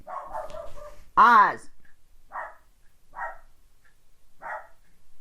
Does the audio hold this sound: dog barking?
yes